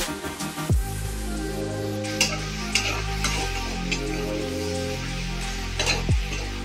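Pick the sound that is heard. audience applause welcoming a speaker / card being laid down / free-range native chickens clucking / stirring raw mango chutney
stirring raw mango chutney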